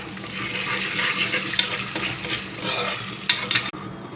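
Popcorn kernels frying in a cooker make a steady, close sizzle with stirring scrapes and a few sharp clicks near the end, with no voices.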